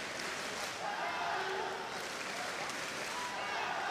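Crowd applauding and cheering a judo athlete at the World Judo Championships, a steady dense wash of clapping and crowd noise filling the arena throughout.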